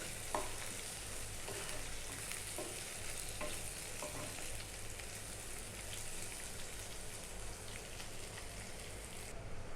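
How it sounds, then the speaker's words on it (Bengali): Chopped onions sizzle steadily in hot oil in a pan for a beef tripe dish, with a continuous close crackle and occasional stirring scrapes, and no talking. "আমি এটাকে কিছুক্ষণ ভেজে নেব একটু নরম হয়ে আসলে আমি মশলাগুলো দেব"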